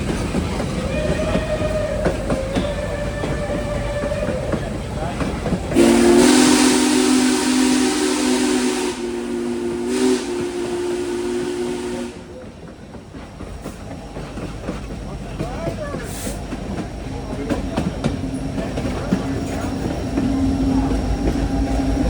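EMD 710 prime movers on a pair of diesel locomotives, including Norfolk Southern 1776, rumble steadily under passing rail noise during a trackside scene, with a loud hissing burst mid-clip and a voice talking over it.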